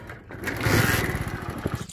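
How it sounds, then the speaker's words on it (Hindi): Motorcycle engine starting, a short cranking rumble that catches and settles into a rapid, throbbing idle, loud and close. "Let's start the bike."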